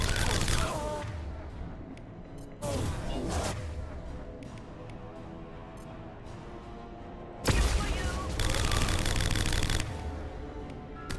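Gunfire in Mass Effect Legendary Edition 2, bursts of rapid weapon fire that start abruptly and hold for a few seconds each, separated by quieter stretches of game ambience.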